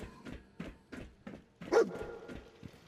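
A dog barks several times in quick succession in Fallout 4, short sharp woofs fairly close, with a softer whimper between them.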